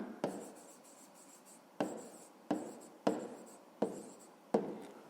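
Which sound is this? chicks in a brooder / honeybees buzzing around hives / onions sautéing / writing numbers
writing numbers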